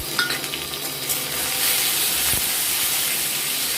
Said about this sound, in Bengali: দিয়ে এটাকে একসঙ্গে আমরা ভেজে নেব।